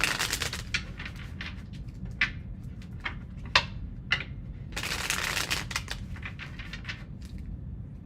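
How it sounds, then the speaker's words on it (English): Tarot cards riffle and snap in a brisk shuffle, with bursts of quick fluttering clicks and a few sharper slaps, close and fairly quiet with no talking. "Two more shuffles."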